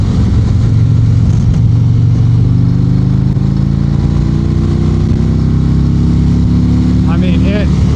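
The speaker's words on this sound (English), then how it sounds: "I think it's just an awesome fast revving motor." A 2025 Harley-Davidson Road Glide motorcycle engine runs with a loud, steady rumble that climbs slowly in pitch as it revs, ending in a brief higher whine near the close.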